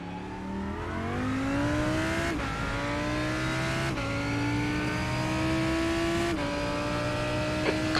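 Engine of a faster-class race car closing in during an IMSA GTD racing game at Hockenheim, a steady loud drone rising in pitch through repeated upshifts, each gear change marked by a brief dip before climbing again.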